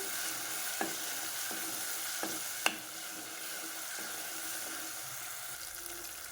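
Ginger garlic paste sizzles steadily in oil in a pan while a spoon scrapes and stirs a few times, a sharp clink standing out midway.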